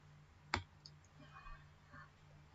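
A single sharp computer mouse click sounds up close, followed by a couple of faint softer ticks over a low steady hum, with no one talking.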